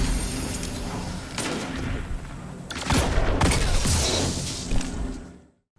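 Aggressive hand cannon gunfire in the Destiny video game: several sharp, loud shots in separate bursts with whooshing effects between them, ending abruptly in silence.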